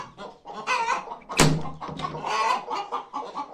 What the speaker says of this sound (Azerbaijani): Toyuqlar imkan vermirlər danışmağa